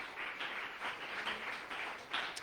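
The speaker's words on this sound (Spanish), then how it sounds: "Dele fuerte ese aplauso al Señor" A church congregation claps and applauds for the Lord, a steady broadband wash of many hands with slight swells, fairly distant and moderately quiet, with no speech over it.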